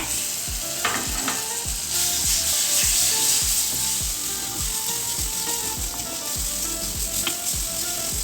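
Quail curry masala with ginger garlic paste frying and being stirred in a pan, a steady sizzle with repeated rhythmic scraping strokes of a spoon throughout, close and loud with no talk.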